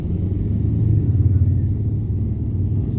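A car's engine strains loudly up a steep grade, a steady low rumble holding throughout without a break, with no talk over it.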